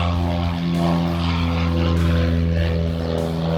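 A propeller airplane drones loudly overhead, a steady throbbing engine hum with rough harmonic tones that holds throughout without fading.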